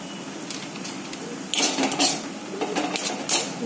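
Spiced potato filling for a green pea dish is mixed in a pan, a spoon clinking and scraping against the metal in short bursts over a low background hiss, close and without talking.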